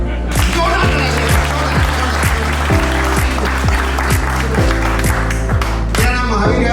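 An audience clapping loudly and continuously at a direct selling event in Dubai, dense applause with sharp individual claps, while steady rhythmic music thumps underneath.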